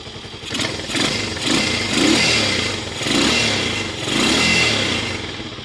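A Romet K 125 motorcycle engine being revved during a winter start-up run, loud and close, its pitch swelling and falling back in several throttle blips over a steady idle with some mechanical clatter.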